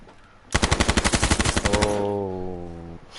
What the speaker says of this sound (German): Ich renne mal weg von den Geballern